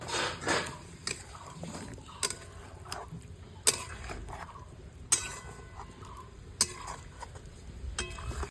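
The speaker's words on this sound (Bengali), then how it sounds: "সব মাংসগুলোকে এগুলো দিয়ে এবার নাড়া হবে।" Marinated meat for biryani is stirred in a cooking pot with bay leaf and spices, giving intermittent close metallic scrapes and clanks of a utensil against the pot over a quiet background.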